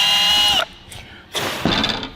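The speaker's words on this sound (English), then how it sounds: "we had to drill some holes" Power drill boring holes in a new truck axle, a steady high whine for half a second, then a pause and two more bursts of drilling with rough, grinding texture.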